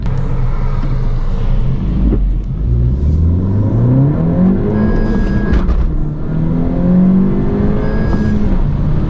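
A stock-tuned car engine revs and accelerates with rising, whining pitch sweeps and a whistling intake sound, loud and close throughout.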